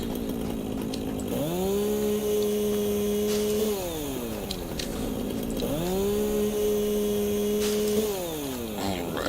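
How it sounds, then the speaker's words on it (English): In the video game Satisfactory, a chainsaw cuts down trees. There are two long, droning buzzes, each rising sharply, holding steady for a couple of seconds, then winding down, heard up close and alone. "just kind of using a chainsaw to cut it down"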